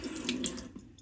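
Water runs from a faucet to wet a cleaning tool, a faint, steady splashing stream heard alone for about a second.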